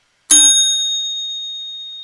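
A single bright bell ding rings out once, close and clear, its metallic tone lingering and slowly fading in the quiet.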